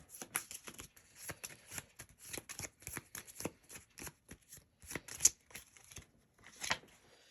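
Deck of cards shuffled repeatedly for a tabletop dungeon game, a run of crisp riffling bursts and snaps in quick succession, close and fairly quiet, with no talking.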